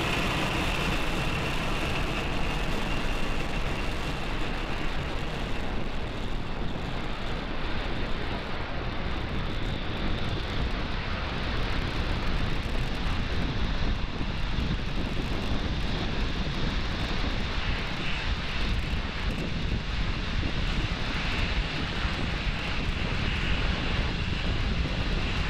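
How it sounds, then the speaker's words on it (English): A SpaceX Falcon 9 rocket climbing after liftoff on the Transporter-5 mission, a continuous distant broadband roar with crackling rumble that holds steady throughout, with no voices. "Falcon 9 has cleared the tower"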